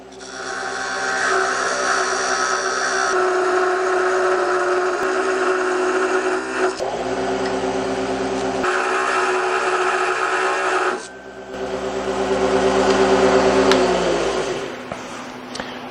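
A lathe cutting an aluminum Christmas tree ornament, a steady loud tonal hum and whir with a gritty cutting texture, shifting in pitch and level a few times as the cut changes.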